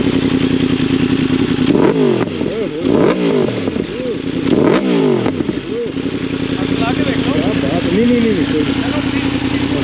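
Motorcycle at a bike gathering revved in a sound test, its engine idling then rising in three sharp throttle blips before settling back to a rumbling idle, close and loud with people talking nearby.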